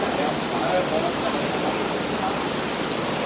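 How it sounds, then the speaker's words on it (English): Heavy rain pours down during a thunderstorm, making a dense, steady hiss that stays close and loud and never lets up. "Because the rain is that heavy."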